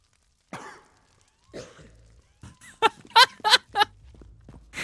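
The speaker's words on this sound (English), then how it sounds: "He just coughed." Coughing and throat clearing from a character in an open-world meme role-playing video game, several separate loud harsh bursts followed by a quick close cluster of coughs, with faint low game sounds between them.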